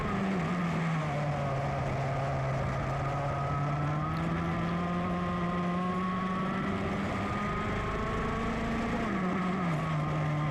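Several 100cc racing karts climb a hill at Sonoma, their high, buzzing two-stroke engines loud and continuous, pitches shifting as they pass close together.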